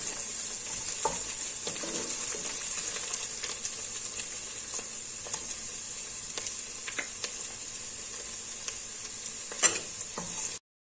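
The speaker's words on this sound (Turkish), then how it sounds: "İç yağ eriyip salçada güzelce kavrulana kadar kavurma işlemine devam ediyoruz." Onions, suet and tomato paste sauté in a pan for turnip soup, giving a steady close sizzle and hiss with occasional scraping stirs throughout, and no talking.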